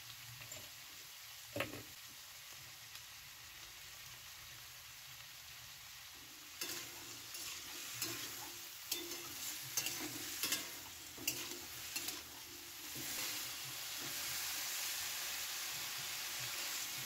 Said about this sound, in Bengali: আমি সব সবজি একেবারে দিয়ে ভেজে নিচ্ছি।